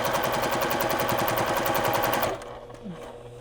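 A sewing machine stitches a quilt block in a rapid, even run of mechanical clatter for about two seconds, then stops abruptly, leaving faint room noise and a small click.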